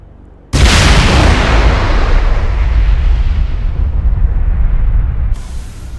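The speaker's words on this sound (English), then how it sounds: "let's get a big boom here." A huge explosion in Mass Effect Legendary Edition bursts in suddenly and loudly, then a deep rumbling roar fills several seconds before cutting off into a quieter hiss.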